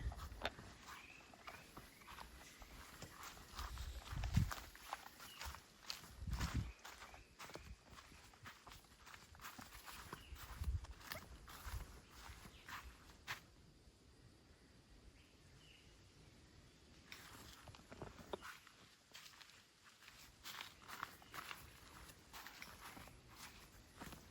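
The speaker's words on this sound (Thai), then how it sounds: "ลื่นลื่นด้วยแฉะด้วยนะทุกคน ฟังจากเสียงเดินก็น่าจะรู้นะ" Footsteps tread through slippery, wet mud, a series of soft, uneven squelching steps close by, with quieter pauses between bursts of walking.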